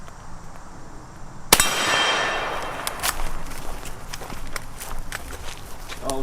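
A Citadel LevTac 92 lever-action rifle fires one loud, sharp shot that decays into a lingering echo, followed by quieter clanks and rattles of the lever action.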